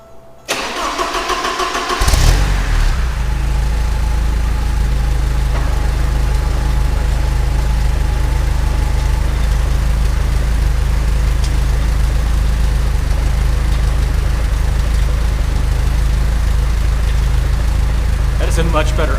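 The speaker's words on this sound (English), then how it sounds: "So I'm gonna just try to start it with no foot on the gas at all." A Porsche 924 engine cranks briefly, catches and settles into a steady, loud idle that runs on alone, heard close up during a vacuum leak repair.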